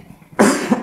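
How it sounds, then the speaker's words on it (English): A single close, sharp cough lasting under a second, with a short second burst at its tail, heard alone against a quiet background. "This is my first cough coming up."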